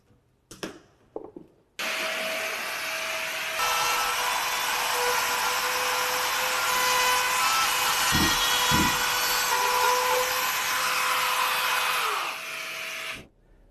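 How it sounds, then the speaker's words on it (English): Bosch power tool cutting into drywall for an outlet box, a sustained high whirring buzz for about ten seconds after a few handling knocks, with two brief thuds midway and a winding-down stop. "here is making a cut into drywall here for an outlet box"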